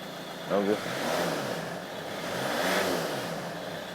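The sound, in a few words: Ford Mondeo engine idling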